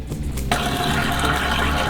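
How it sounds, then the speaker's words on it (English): Water pump in an Airstream trailer kicks on and a tap starts running, a sudden switch from quiet hum to a steady rushing flow that stays loud and close. "we're gonna have to turn the water pump on"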